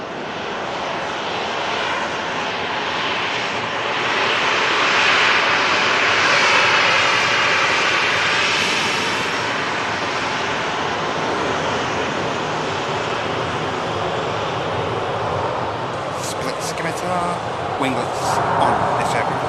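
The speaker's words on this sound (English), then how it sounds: "the EasyJet Neo coming in from Thessaloniki" An EasyJet A320neo jet comes in to land at Manchester Airport, its engines a broad steady roar with a hissing rush of air that holds loud throughout, with a voice talking over it.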